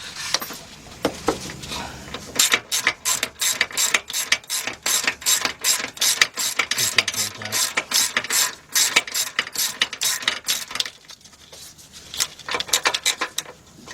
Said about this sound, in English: get our bolt on there, get our 3/8 drive ratchet